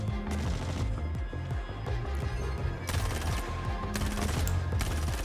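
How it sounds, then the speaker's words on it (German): Rapid bursts of automatic gunfire from the video game Star Citizen, repeated volleys in quick succession, loud and continuous with brief gaps. "Also ich höre Schüsse rechts"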